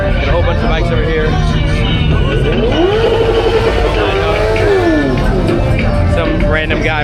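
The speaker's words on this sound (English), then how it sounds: "Some random guy revving." A motorcycle engine revs at a busy car meet with many bikes around, steady loud engine roar with rising and falling pitch sweeps, crowd noise in the background throughout.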